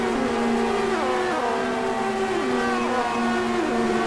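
Formula 1 cars at the Spanish Grand Prix whine past on track, several overlapping engine tones climbing and shifting through gears in a steady, continuous roar without any talk.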